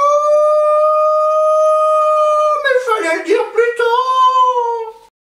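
A voice imitates a wolf howling during a reading of a children's story about the big bad wolf, one long, loud, steady howl that breaks into a wavering, sobbing cry before falling away.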